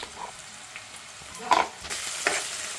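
Curry leaves, onions, turmeric and ginger paste frying in a pan, giving a soft sizzle with a few scraping stirs of a spoon, fairly quiet and close.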